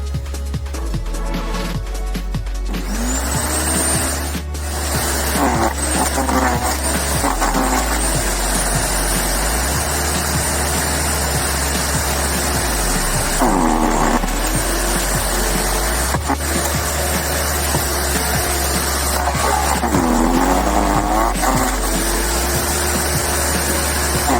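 A garden branch chipper with freshly sharpened knives runs with a loud, steady motor roar, broken by rough grinding bursts as branches are shredded, each feed causing a brief dip and surge.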